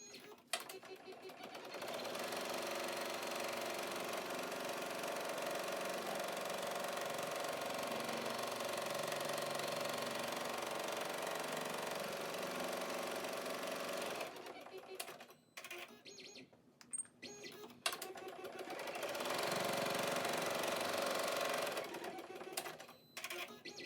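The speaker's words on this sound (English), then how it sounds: "Now we're going to sew the tack down for the back fabric." An embroidery machine sews a tack-down stitch through fabric for an in-the-hoop hanging pocket, a steady rapid mechanical chatter that runs for a long stretch, stops with a few clicks, then resumes.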